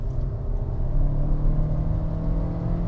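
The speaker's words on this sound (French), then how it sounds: "Écoutez la sonorité de ce moteur quoi." A Suzuki Vitara SUV's engine drones and rumbles as it pulls forward, a steady, fairly loud whirring hum that swells slightly in the middle, with no voices over it.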